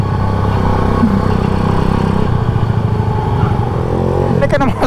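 A classic motorcycle engine runs with a steady, close mid-range rumble and some mechanical clatter, while a person talks over it.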